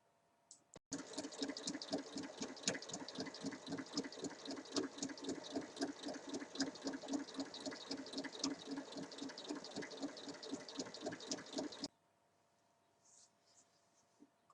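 A sewing machine stitches a 1 cm hem along the top of a summer dress, running steadily with a rapid, even needle rhythm for about eleven seconds before stopping abruptly, close and alone.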